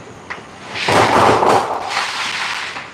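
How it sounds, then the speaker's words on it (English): Outdoor fireworks burst in a loud rumbling cluster, a sharp pop followed by a dense, sustained crackling boom lasting about two seconds, then trailing off into lighter crackle. "these fireworks are going nuts"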